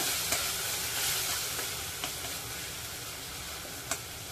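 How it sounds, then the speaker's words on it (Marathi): Turmeric and asafoetida fry in a pan over a low flame, giving a steady, close sizzle with a few faint scraping ticks as the spice is stirred. "इथे मी अर्धा चमचा हिंग घालत आहे। हळदीचा कच्चेपणा निघेपर्यंत हळद परतून घ्यायची आहे।"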